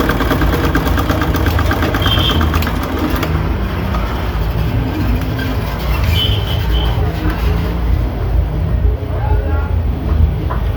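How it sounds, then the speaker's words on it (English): Sewing machine stitching the side seams of a long fish-tail gown with balloon and pencil sleeves, a steady close mechanical whir running throughout, with speech present at times. "So after this, now I will sew the two sides."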